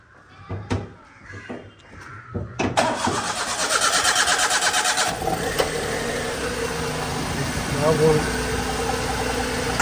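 A car engine with a reported fault is cranked and fires up loudly partway through, then settles into a steady, rough idle; people talk before it starts.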